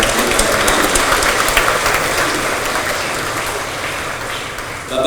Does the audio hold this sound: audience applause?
yes